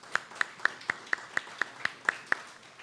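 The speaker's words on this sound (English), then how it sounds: "please extend a lusty round of applause for this distinction" Parents at a primary school's 65th anniversary celebration clap in a slow, steady rhythm: about ten evenly spaced, fairly faint claps standing out clearly against quiet background noise.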